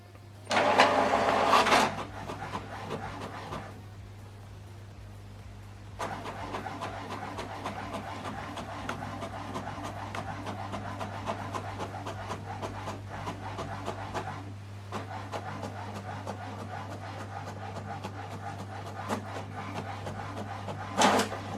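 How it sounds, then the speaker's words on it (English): An HP Deskjet printer works through a document, with bursts of mechanical whirring and feeding separated by brief pauses over a low, constant hum. "Now this document is printing."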